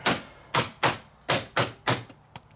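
A hammer taps a pool filter part six or seven times in a steady rhythm, each a sharp, close knock that fades quickly, with a fainter final tap and no talk.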